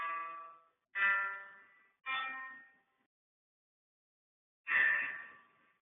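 Four separate chords played in a GarageBand app, each a rich harmonic tone that rings about half a second to a second and then decays, with a longer gap before the last one; no talking over them.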